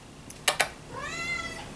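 A pet cat meows once in the background of a quiet room, a drawn-out rising and falling call following a few soft knocks and clicks.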